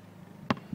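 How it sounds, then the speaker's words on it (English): A single thudding bounce of a ball, close by, followed shortly by a softer second thump against faint outdoor background. "He's playing a little bit of ball before leave."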